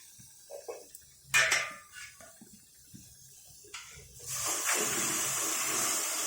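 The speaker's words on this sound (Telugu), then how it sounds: "ఇప్పుడు దీన్ని నీళ్ళు పోసుకొని చూపిస్తాను నేను." Water poured into a pan of roasted wheat rava for a tamarind pulihora: scattered clinks of a utensil give way to a sudden loud hissing gush that settles into a steady rushing boil.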